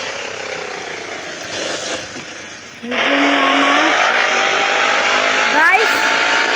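A vehicle turns around on a road while the engine rises in pitch and a short tire squeal is heard near the end, with loud steady road noise throughout and a person talking over it.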